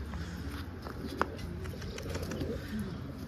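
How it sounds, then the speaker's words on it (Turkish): Pigeons or doves coo softly outdoors in a steady low murmur, with a brief sharp tap partway through and faint background rustle. "Bak burada kuşlar var."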